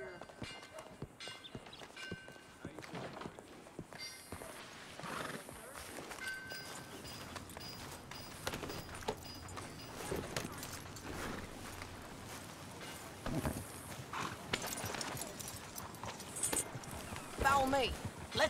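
Steady horse hooves clip-clopping at a walking pace in Red Dead Redemption II, with voices talking over them and a busy background of other game sounds.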